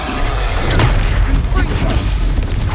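Confringo blasting spells explode in Hogwarts Legacy during a troll fight in Hogsmeade, loud booming bursts over a dense, continuous battle din, with game voices mixed underneath.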